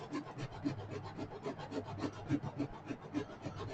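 Sandpaper rubbed back and forth in quick, even strokes, producing a soft, faint rhythmic scratching with no talking.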